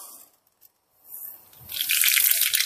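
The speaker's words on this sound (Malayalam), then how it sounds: "അപ്പൊ എണ്ണ ചൂടായി. നമുക്ക് കടുക് ഇട്ട് കൊടുക്കാം." Mustard seeds dropped into hot oil while tempering an Onam-style sambar: a quiet start, then a loud, dense sizzle with fine crackling and popping that swells and holds close up.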